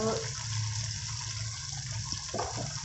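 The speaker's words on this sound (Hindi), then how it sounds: "अब मैं इसमें पानी ऐड कर रही हूँ" Water poured into a cooking pot of chickpeas with masala, about three cups of it, as a steady splashing flow that runs throughout, fairly loud and close, with no talking.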